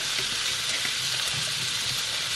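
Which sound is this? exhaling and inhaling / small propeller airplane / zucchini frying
zucchini frying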